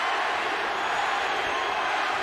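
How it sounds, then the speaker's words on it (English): Filipino crowd at a Pacquiao–Barrera boxing match roaring and chanting during the last round, a dense, steady wash of voices filling the arena without a break. "Filipino crowd chanting for their man, hoping for a dramatic last-round knockout"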